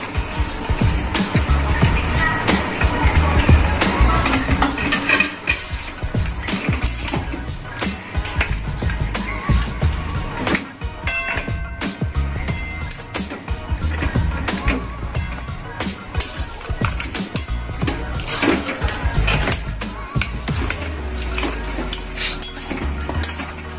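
A fish head goes into a pan of rice for Bengali muri ghonto, with metal utensils clattering and stirring against the pan, soft sizzling and scraping throughout, and occasional speech.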